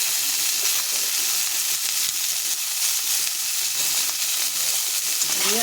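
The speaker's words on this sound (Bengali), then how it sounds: "একটু নুন দেবো ফুলকপিতে, আর একটু হলুদ দিয়ে আমি ভাজবো।" Cauliflower frying in a pan with salt and turmeric, a steady close sizzle with light stirring scrapes running throughout, loud and continuous with no voices.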